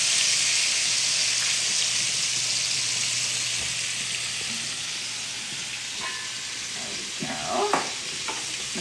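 Chicken cutlets fry in a skillet with a steady loud sizzle and hiss, some clinks and scrapes toward the end, with a little talking in the background.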